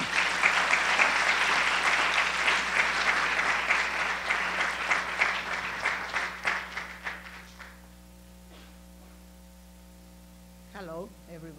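Audience applause in a university hall fills the first eight seconds, steady and dense, then thins into scattered claps and stops, with a low mains hum underneath and a voice starting briefly near the end.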